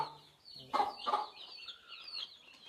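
Country hens in a small desi chicken farm cluck in short, close bursts, a few soft calls followed by louder clucks, heard alone with no talking.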